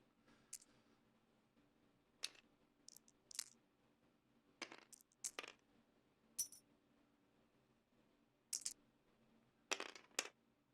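Dice clatter and click on a table during a tabletop miniatures game, several sharp separate bursts of rattling with quiet gaps between them.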